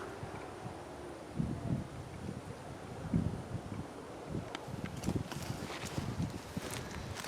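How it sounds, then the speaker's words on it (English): Wind blowing outdoors at a campsite, a low steady rumble buffeting the microphone with gusty swells and faint rustling, no talking. "The wind's blowing."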